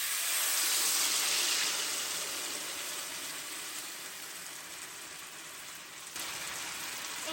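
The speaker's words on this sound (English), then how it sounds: "So now we're gonna put our salsa in our pan." Salsa for chiles rellenos hitting a hot pan, a loud hissing sizzle that settles into a steady bubbling fry.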